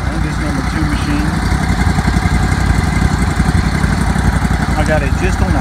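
A commercial pressure washer's engine idles at low throttle with the pressure side off, a loud, steady, rumbling drone running continuously from start to finish.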